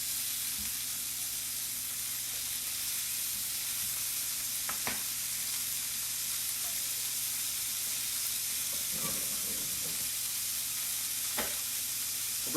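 Sirloin steaks sear in hot oil in a pan, giving a steady loud sizzle and hiss throughout, with a few faint clinks and scrapes of handling and no talking.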